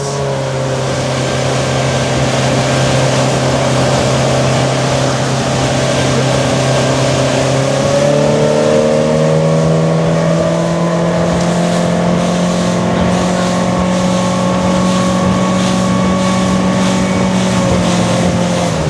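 A powerful motorboat engine on a Rodosto 460 Spark drones loudly and steadily at about 4500 rpm and over 20 knots, its pitch shifting slightly as the boat rides over water, with wind rushing throughout.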